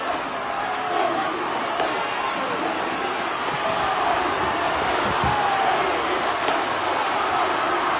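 Rugby stadium crowd at a Fijian Drua versus Waratahs match roars in a loud, sustained wash of noise that stays dense and steady for the whole stretch, with no clear speech above it.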